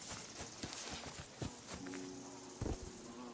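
Horse hooves clip-clop at a walking pace in Kingdom Come: Deliverance II, a run of fairly close, uneven thuds on the ground with a few louder strikes. Game sounds sit faintly underneath.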